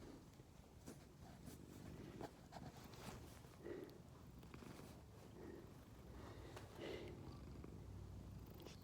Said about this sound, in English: She's purring. She's purring.